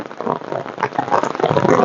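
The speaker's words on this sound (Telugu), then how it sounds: "ఇప్పుడే వర్షం స్టార్ట్ అయింది. బాగా దంచి కొడుతుందండి వర్షం." Heavy rain pours down in a leafy village, a dense, continuous close-up roar of drops on surfaces that grows slightly stronger toward the end, with no one speaking.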